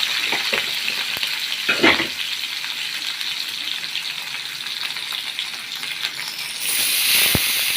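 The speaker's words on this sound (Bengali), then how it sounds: "একটু কাঁচা পেঁয়াজ দিয়ে দিলেন পেঁয়াজটা একটু ভাজিয়ে নিতে হবে" Raw onion and green chillies fry in a pan with a steady, loud sizzle, broken by a few clattering stirs and scrapes, and the hiss rises brighter near the end.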